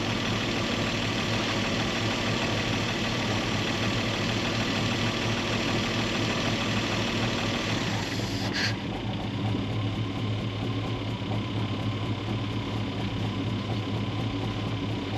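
Engine of a 1949 Chevy Advance Design truck idling steadily and close by, a constant low rumble with an even mechanical chug that carries on for the whole stretch, with a faint click partway through.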